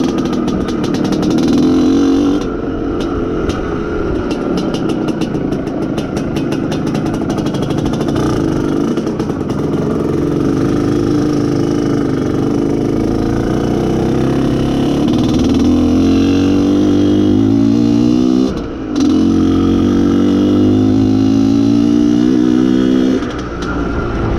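An IZh Planeta Sport motorcycle being run in on a muddy track, its single engine droning loud and close with rising and falling revs as gears and throttle change.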